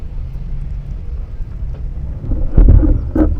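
Rain falls steadily over a natural fishing pond under a low rumble of thunder that swells into heavier, booming bursts near the end.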